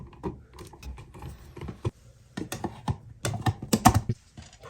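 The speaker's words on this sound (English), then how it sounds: "Put our screws back in our faceplate" Screws are driven back into a light switch faceplate, producing a busy sequence of small clicks, scrapes and ratchet-like ticks close to the microphone with no talk.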